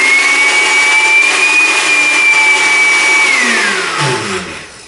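Repaired blender running loudly up close, a steady high motor whine that drops in pitch as it spins down and fades out at the end.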